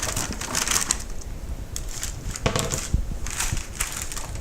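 Sliced peppers and onions land on a parchment-lined sheet tray as a near, continuous rustling and crinkling with soft scattered thumps, no voices.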